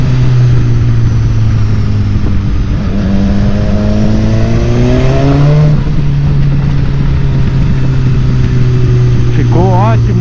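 A loud BMW S1000 XR motorcycle with an aftermarket sport exhaust revs and climbs through the gears, its exhaust roaring close by with rising pitch sweeps and no talking.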